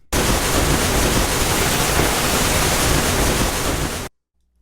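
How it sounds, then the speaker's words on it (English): Rocket launcher thrust sound effect for a video game, a loud dense roaring hiss that holds steady for about four seconds, then cuts off abruptly. "the thrust"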